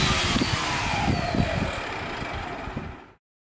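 A propeller spinning at roughly 6000 RPM gives a steady, loud whirring drone whose pitch slowly drops, then cuts off abruptly after about three seconds.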